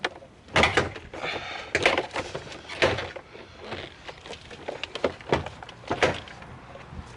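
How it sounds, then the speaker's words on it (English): Car door panel being pried off to release its plastic retaining clips, a series of sharp snapping pops and thunks spaced irregularly, close and loud, with scraping and handling noise between them. "we need to pop off the door panel"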